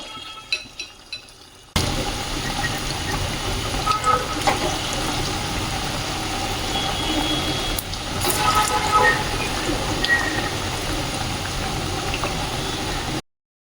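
Potato pakoras deep-frying in hot oil, a steady dense sizzle and bubbling that starts abruptly after a few quiet seconds and holds evenly close to the pan.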